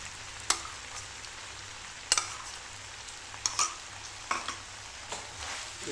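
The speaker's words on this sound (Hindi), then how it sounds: "इसको अच्छे से सौते करेंगे" Chili garlic sauce and ketchup sauté in a pan for vegetable noodles, a soft steady sizzle broken by sharp scrapes and clinks of a spoon against the metal every second or so.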